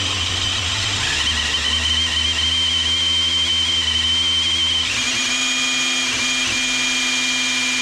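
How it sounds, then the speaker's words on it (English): A small Makita power drill run at full speed spins a small-block Chevy oil pump to pre-lube the engine of a 1957 Chevy, giving a loud, steady whine with a pitch shift partway through and no talking. "Full blast on my little Makita."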